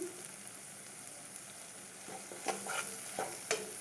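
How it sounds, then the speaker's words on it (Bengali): Spices are lightly sautéed in a pan, giving a soft continuous sizzle at low level. A few spoon scrapes and stirring knocks near the end rise above it. "এটা এবারে হালকা করে একটু কষিয়ে নেব, বেশি কষাবো না, অল্প কষাবো"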